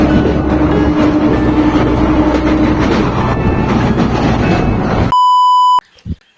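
Adra to Asansol MEMU special 08659 rumbles steadily along the track for about five seconds, a dense, loud rolling roar, then a sharp electronic beep cuts in and ends it.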